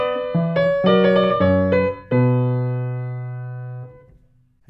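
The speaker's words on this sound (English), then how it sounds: "the strongest of them all is the cadence with the hemiola" Keyboard instrument playing a Baroque-style cadence with hemiola in triple meter, a short sequence of clear sustained chords moving to a long final chord over a low bass note that rings and fades.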